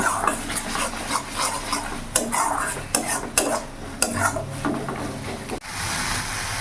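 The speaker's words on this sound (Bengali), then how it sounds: "মশলাটা কিছুক্ষণ কষিয়ে নেব যাতে মশলা থেকে কাঁচা গন্ধটা চলে যায়" Spice masala for an egg curry being stirred and sautéed in a pan: busy close scraping and clattering strokes of a spatula against metal over a light sizzle, ending in a sharp clack.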